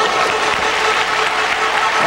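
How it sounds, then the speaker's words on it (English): A crowd at a figure skating pairs' short program at the 1998 Nagano Winter Games bursts into loud, sustained applause in a large arena. "That got an ooh from the crowd."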